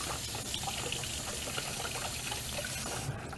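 Warm-up tap water runs steadily into a kitchen sink on a countertop, a continuous close gushing stream that holds level for about three seconds before easing off at the end.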